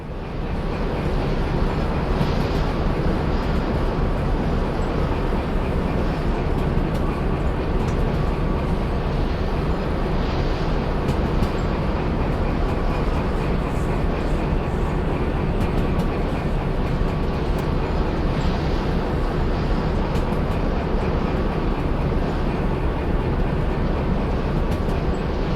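A long, heavy freight train rumbles along steadily in the Derail Valley railway game, a dense unbroken roar with faint rhythmic clatter underneath, loud and close throughout with no talking.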